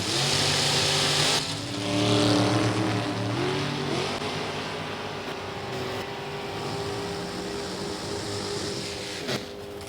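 A wingless drag race car on a quarter-mile run at Indy, a loud roaring engine blast that peaks early and then recedes into a long fading drone as the car pulls away down the track.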